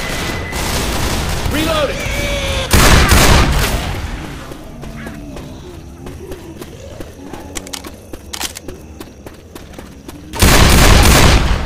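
In Left 4 Dead 2, set in industrial warehouses, a pipe bomb goes off in a heavy, loud blast while crackling gunfire pops steadily around it, with a second big burst near the end and a person shouting over the action.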